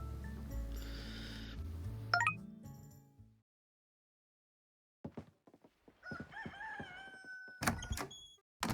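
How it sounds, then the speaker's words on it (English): Cockerels crow at dawn on a farm in the life-sim game Coral Island, a drawn-out crow trailing off into silence, followed by scattered clucks, small thuds and a door-like knock at low level. "It's definitely morning, you can tell by the cockerels."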